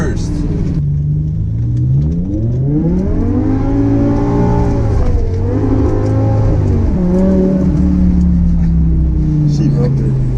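A BMW E60 M5 engine revs hard while accelerating in first gear. Its loud, up-close tone climbs through rising sweeps, dips with a shift or lift, then holds a high, steady roar.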